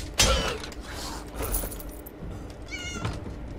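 A cat meows in the video game The Elder Scrolls Online, a few short meows mixed with creaking, mechanical game sounds, moderately loud with no talking.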